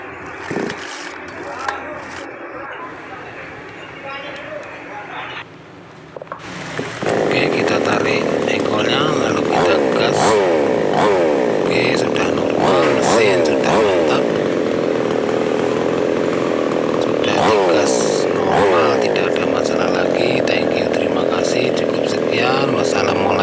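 A small chainsaw engine, newly bought and fitted with a spark plug, starts after some quiet fiddling and then runs loud and steady with a rough, hunting idle until the end.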